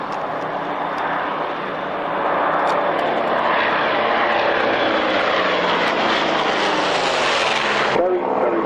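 A Douglas Skyraider, a large propeller-driven attack aircraft, flies past at the Duxford Flying Legends airshow, its loud, steady piston-engine drone swelling after about two seconds and holding strong before dropping away near the end.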